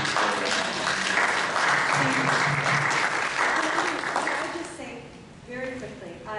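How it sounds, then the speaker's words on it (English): Meeting audience claps in sustained, even applause for about five seconds, then fades as a speaker resumes talking. "So we applaud you for that"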